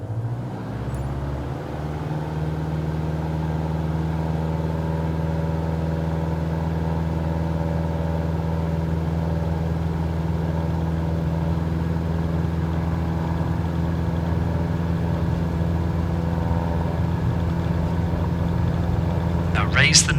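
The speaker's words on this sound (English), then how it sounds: "Now apply full power with some right rudder for the engine torque." The single light aircraft engine in Flight Simulator 2022 holds full takeoff power as a steady, droning hum with a constant pitch, running loud and continuous for about twenty seconds.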